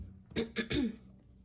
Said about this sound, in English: I keep clearing my throat, it's just really, really bad right now